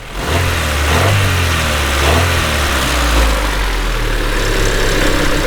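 A 1988 Honda Civic Shuttle EF2 engine runs loudly and continuously, rising and falling in a few throttle surges over a low, rumbling idle. No voices.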